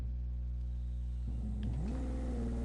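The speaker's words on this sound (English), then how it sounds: "I want you to still be able to hear the car, because if you can't hear the cars" A car engine in the racing game The Crew 2 hums at a steady idle, then rises in pitch as it revs up, moderately loud and heard without talk.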